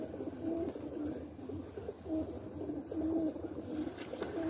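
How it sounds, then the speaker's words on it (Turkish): Pigeons coo repeatedly in soft rhythmic phrases while being fed outdoors, a steady low murmur of several birds close by with no talk over it. "Kuşlar da burada bekliyor."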